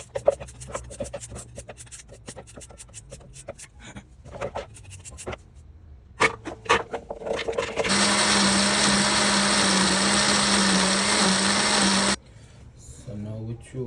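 A blender runs steadily and loud for about four seconds, grinding cut-up coconut for Jamaican run down, after scattered kitchen clatter and clicks, then cuts off abruptly.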